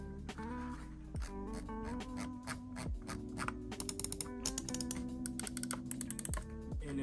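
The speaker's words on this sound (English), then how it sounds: "The click is very clicky." Logitech G Pro Wireless gaming mouse buttons being clicked, a rapid string of crisp close-up clicks that grows denser in the second half over a faint background hum.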